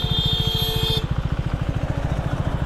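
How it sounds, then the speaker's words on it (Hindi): A motorcycle blips its throttle, then drops into a steady, close, pulsing engine rumble, with a faint high whine heard only at the start. "मैंने थ्रॉटल दिया"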